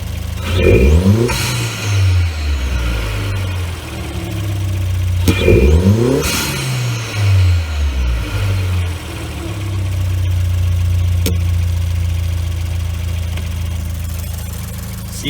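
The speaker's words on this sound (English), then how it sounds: "We're going to transition to the front of the vehicle, and I'll let you hear how the intake sounds." A 2018 Ford Escape 1.5-litre EcoBoost four-cylinder turbo engine, air box top removed, revved twice with rising and falling intake roar and turbo whoosh, then held at a steady raised idle; loud and close, with a brief sharp release near the end.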